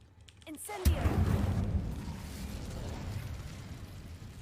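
An Incendio fire spell is cast in Hogwarts Legacy, a sudden whooshing burst of flame that swells into a sustained roaring blaze and carries on loudly, with a brief game voice just before the burst.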